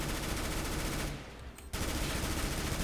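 Automatic gunfire in Counter-Strike on the Dust II map, aimed at a planted bomb: a dense, loud, sustained burst that drops away briefly and then resumes at full strength.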